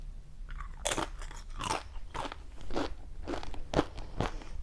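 Crispy tortilla chips loaded with guacamole, hot salsa and queso are bitten and chewed up close, giving a steady series of sharp, loud crunches about every half second with no talking.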